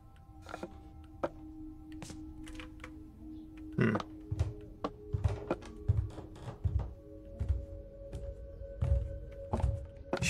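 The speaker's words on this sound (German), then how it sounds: "Ich höre Schritte." Footsteps in a horror video game, a series of dull thuds at an irregular pace, fairly faint and muffled as if heard from another floor, amid low hums and scattered knocks.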